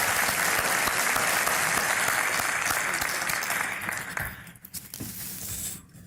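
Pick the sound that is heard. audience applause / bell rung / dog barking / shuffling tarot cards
audience applause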